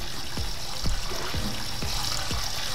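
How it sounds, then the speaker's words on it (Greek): Water running from a tap in Roblox, a steady splashing trickle with a few bubbly drips at close range, heard alone. "Ελάτε, ανοίξτε νερό."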